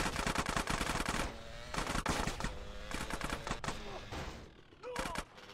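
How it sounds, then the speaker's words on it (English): Rapid automatic gunfire in a GTA San Andreas Definitive Edition shootout, loud bursts of machine-gun fire repeating in clusters, with brief pauses between volleys and faint talk in the gaps. "Stop shooting that thing right next to my ear."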